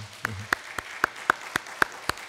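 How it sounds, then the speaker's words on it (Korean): A church congregation claps in steady unison for the worship team during a Friday service, about eight sharp, evenly spaced claps in quick succession. "우리 찬양 팀들을 위해서 우리 감사와 격려의 박수를 한번 했으면 좋겠습니다"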